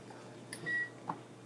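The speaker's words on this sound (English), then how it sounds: "made a beeping sound" A portable cooktop in a home kitchen gives faint short electronic beeps, one tone near the middle and a brief blip after it, heard quietly against a low room hum.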